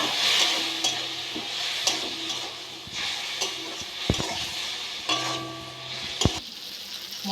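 Pointed gourd curry in spicy oil gravy sizzles in a pan as water goes in and it is stirred, a close, continuous frying hiss broken by a few sharp utensil knocks against the pan.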